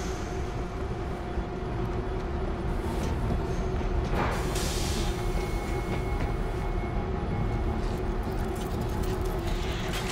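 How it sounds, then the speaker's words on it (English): A train in the World War Z game, New York level, rumbling steadily as it starts up, a continuous low mechanical roar with a sharper hiss midway and faint scattered game sounds. "Somebody start up the train!"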